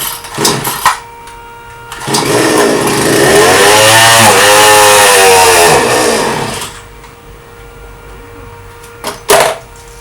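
A new Grunhelm GS-4500MG chainsaw engine runs on its own, revving up and holding a loud, steady high whine for several seconds before dropping back, with a few sharp knocks at the start and end; it is suspected of an air leak through a seal.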